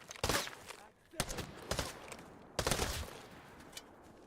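Gunfire in the game Arena Breakout Infinite comes in several sharp bursts, with quieter pops and gaps between the volleys.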